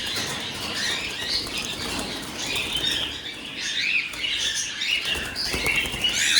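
Emerald doves flapping their wings, a continuous fluttery whirr with soft pattering and faint chirps, fairly close and steady throughout.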